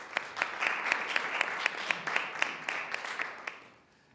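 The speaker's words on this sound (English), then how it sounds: "So a round of applause for Renee, please." A round of applause for Renee at a school district board of education meeting: fairly sparse, distinct claps in a quick rhythm that thin out and fade away near the end.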